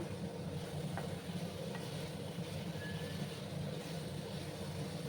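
Pointed gourd and potato with small shrimp sautéed in a pan give a steady, faint sizzling hiss with a few light stirring scrapes, continuous and even throughout, with no talk.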